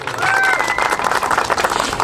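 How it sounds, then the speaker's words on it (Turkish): Audience applause for a speaker at a festival opening in Uşak, Turkey: steady, dense clapping filling the full two seconds at close range, with faint voices mixed in. "Uşak Belediye Başkan Yardımcımız Zeynep Ceylan Hanımefendi'ye alkışlarla mikrofonu arz ediyorum"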